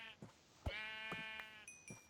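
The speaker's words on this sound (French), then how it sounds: "Il y a plein de moutons" Sheep bleat in the castle-building video game Castle Builders, a couple of clear, wavering bleats close by over light background noise.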